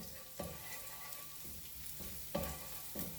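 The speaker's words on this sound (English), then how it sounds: "I want to fry the garlic until it starts to get golden" Garlic frying in a pan for Chinese broccoli stir-fried with pork belly, a steady close sizzle broken by a few louder scraping stirs, with no one talking.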